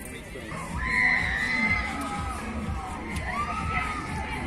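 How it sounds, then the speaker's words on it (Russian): Faint screams rise and fall from riders on a scary amusement park ride in an outdoor entertainment zone in Khabarovsk, heard at a distance in two waves over a low crowd murmur. "Люди кричат вот на этой штуке страшной."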